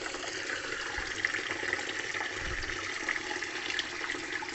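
Six litres of water pouring steadily into a fake mud mixture of CMC powder and sugar, a continuous close rushing splash without pause and with no talking.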